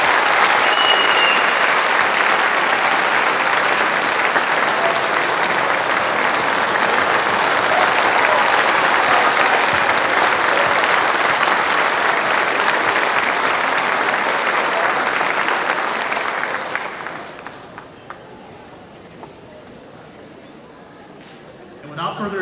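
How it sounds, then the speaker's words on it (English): Audience applause at a school honors night, steady and sustained for about seventeen seconds from a full room, then fading out to near quiet. "please give Cully Fink a round of applause."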